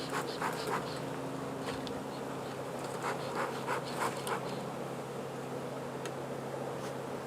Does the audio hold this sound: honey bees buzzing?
yes